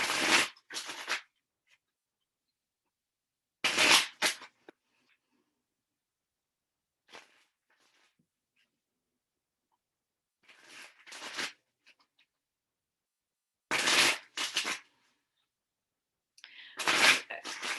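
Tarot cards are shuffled in several quick riffling bursts, each a crisp flutter followed by silence, close and fairly loud.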